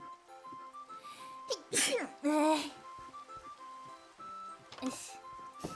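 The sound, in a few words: sneeze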